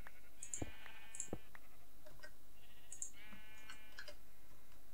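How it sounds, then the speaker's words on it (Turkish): Several short bleats from a white sheep in a video game, two close clusters of nasal, wavering cries with a couple of soft clicks, fairly clear against a quiet background. "yeni bir beyaz koyun bulmamız gerekecek"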